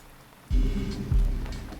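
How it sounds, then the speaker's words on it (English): Heavy rain pouring down in the video game Misericorde, a steady hiss that swells abruptly partway through with deep low rumbles, loud and close, with no voices. "It was raining even harder by the time we made it back to the Abbey."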